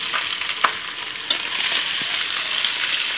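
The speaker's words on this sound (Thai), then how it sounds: "เจียวใส่หม้อนี่เลยครับ อันนี้แม่ใช้เป็นมันหมูแบบแข็งนะครับ ไม่ใช่มันเปลวนะครับ" Hard pork back fat sizzles and crackles steadily as it fries in a pot to make cracklings and lard, with a few sharp pops and scrapes of stirring close by.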